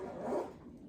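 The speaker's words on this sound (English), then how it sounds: "zip it up." A bag's zipper is drawn shut in one smooth, continuous pull lasting under a second, close to the microphone and heard alone.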